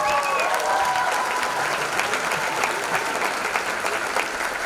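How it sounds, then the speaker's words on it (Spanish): Enthusiastic audience applause at a breakdance anniversary show, dense steady clapping filling the whole stretch at close range, with a faint voice early on. "Ahora, un muy, pero muy, muy fuerte aplauso"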